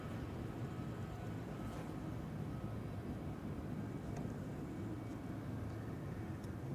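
A departing airliner at Schiphol's Polderbaan runway, a steady distant low jet roar holding evenly with no voices.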